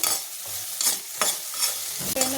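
Chopped vegetable pieces frying in hot oil while being stirred, a steady close hiss broken by a few scraping strokes of the spoon across the pan.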